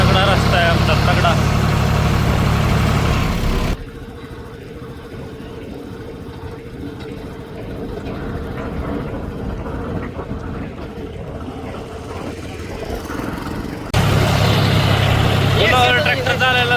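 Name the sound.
John Deere 5310 tractor engine running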